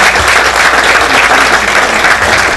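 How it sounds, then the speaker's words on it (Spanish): Loud, dense applause from a sizable audience at an international scientific conference, steady and sustained without pause. "aplauso."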